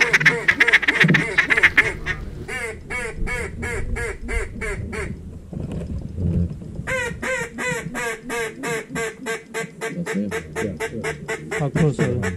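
Loud, rapid mallard quacking in dense repeated bursts, several birds calling close by during a duck hunt at Reelfoot Lake, with a brief lull midway before the chorus resumes.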